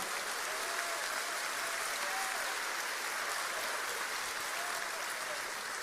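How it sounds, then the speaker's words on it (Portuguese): A church congregation applauds during a sermon, a steady, dense wash of many hands clapping together that holds at an even level throughout, heard alone without speech. "Se é para Jesus, você pode aplaudir."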